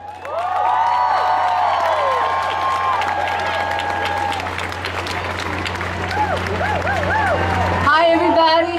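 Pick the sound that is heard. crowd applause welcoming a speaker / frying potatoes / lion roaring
crowd applause welcoming a speaker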